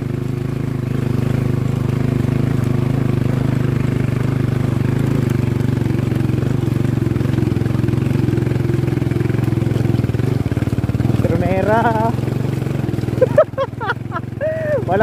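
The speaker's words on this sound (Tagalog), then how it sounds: "Malakas yung motor ni Master Boom, ah." Motorcycle engine idling steadily up close on a mountain road for a long stretch, ending with a few sharp revs and throttle blips, with voices talking briefly near the end.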